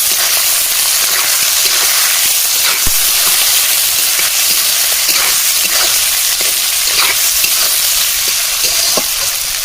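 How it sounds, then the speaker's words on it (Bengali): Chopped onion and whole garlic cloves sizzle steadily in hot oil for a chicken curry, a loud continuous crackling hiss with scattered pops and the occasional scrape of stirring, no voices. "এবার পেঁয়াজটাকে গোল্ডেন ব্রাউন কালার করে ভেজে নিই"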